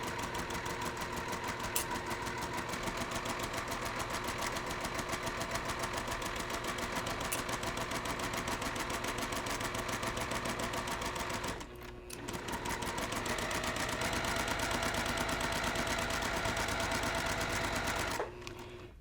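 A sewing machine fitted with a 1/4 inch guide foot runs a 2.0 stitch length through bias-cut quilt pieces for a shortcut quilt: a continuous, fairly steady mechanical whir with rapid needle clatter and two brief pauses.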